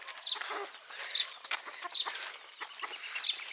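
Several chickens cluck and chatter nearby in repeated short bursts, a busy, continuous farmyard sound with no talking.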